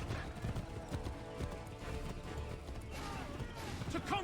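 Horse hooves clop rapidly at a gallop in the video game Assassin's Creed III, a continuous rhythmic beat mixed with game sounds and a neigh, with voices heard over it.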